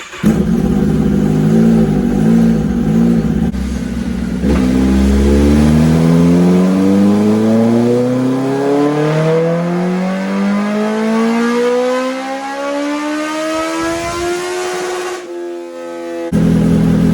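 A Kawasaki ZX-10R sportbike screams on a dyno, its engine climbing steadily through the gears toward an 11,000 RPM limiter, loud and close, then cutting off abruptly before roaring again.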